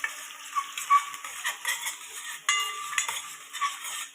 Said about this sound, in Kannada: ಇವಾಗ ಕರಿಬೇವು ಹಾಕಿ ಸ್ವಲ್ಪ ಫ್ರೈ ಮಾಡ್ಕೋಬೇಕು